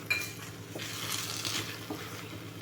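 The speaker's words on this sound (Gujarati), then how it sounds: "ગોળને લોટમાં સારી રીતે મિક્સ કરી લઈશું" Jaggery is stirred into wheat flour in a pan for sweet sheera: soft scraping and clinking of a utensil against the pan under a light, continuous sizzle, close by and with no talking.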